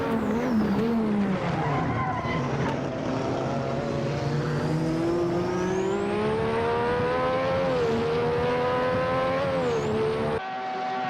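A racing car, simulated at Silverstone, brakes hard and slightly locks a wheel while overtaking two cars, its continuous loud engine whine rising and falling through gear changes with a tire squeal, close and constant.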